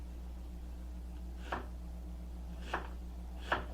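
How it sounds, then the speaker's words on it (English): A knife chops an onion on a cutting board in a home kitchen, with three sharp, separate chops spaced about a second apart over a low steady hum. "while I'm chopping this onion"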